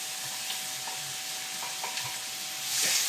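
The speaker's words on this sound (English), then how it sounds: "you're going to add the onions and the garlic" Onions and garlic frying gently in grapeseed oil in a pan, a steady soft sizzle with occasional stirring clicks and scrapes, close and fairly quiet, with no talking.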